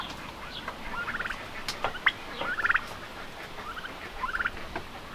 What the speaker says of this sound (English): What are you turkeys doing?